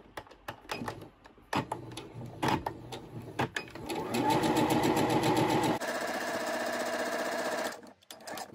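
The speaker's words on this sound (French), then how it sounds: "Alors ici, je viens coudre la séparation." A sewing machine stitches the divider seam of a small fabric pouch, starting with a few stops and starts and then running fast and steady for several seconds, close up, with no talk.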